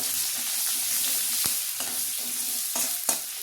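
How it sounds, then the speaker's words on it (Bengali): Garlic and nigella seeds (black cumin) sizzle and spit steadily in hot oil, a dense continuous frying hiss with a few sharp pops and the clack of a stirring spoon, close and with no talking. "ওই তেলের মধ্যে একটু কালো জিরা দিয়ে দেবো। প্রথমে দেবো রসুন,"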